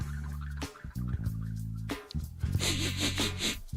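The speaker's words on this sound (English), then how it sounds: "I sniffed." A person sniffs close into a microphone, producing several loud, breathy nasal inhales in a short irregular series, with no talk between them.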